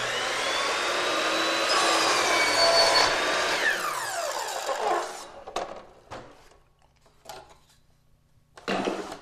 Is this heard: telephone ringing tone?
no